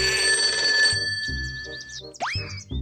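A telephone rings with a bright electronic tone, then gives way to a springy boing-like effect and a few short knocks, all close and clear, with no voices.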